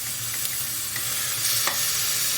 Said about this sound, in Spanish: revolviendo con calma nuestro pulpo